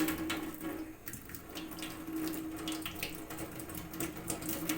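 Tap water runs steadily while dusty potted African violets are washed indoors, a continuous close splashing stream that keeps going for the whole stretch, with no talking.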